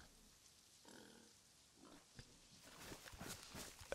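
Pig in the DayZ video game grunting and snuffling faintly in short, irregular bursts against low ambient noise, growing slightly busier toward the end, with no talk.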